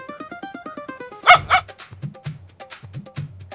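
A pet dog yips and whimpers in a rapid series of short high cries, then lets out two sharp louder barks, followed by lower grumbling woofs, close by.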